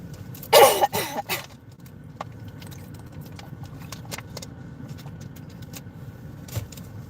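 A person coughs in a loud, close burst of several rapid coughs, followed by quiet with faint scattered clicks and rustling.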